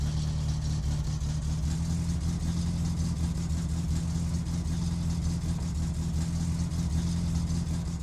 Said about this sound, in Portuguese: Eu vou esquentar o carro aqui